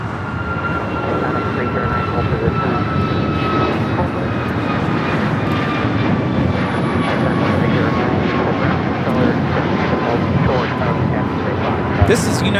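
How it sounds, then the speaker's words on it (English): A United Airlines Boeing 737 MAX 8 takes off at LAX, its engines a loud, continuous roar that fills the whole stretch with a slowly shifting whine. A voice talks faintly underneath. "This is United Airlines 1858 taking off to Fort Myers on the MAX 8"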